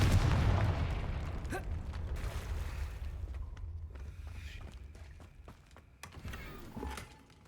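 A Confringo blasting spell goes off in Hogwarts Legacy, opening with a loud low boom that decays into rumble, followed by scattered sharp cracks and thuds at moderate distance.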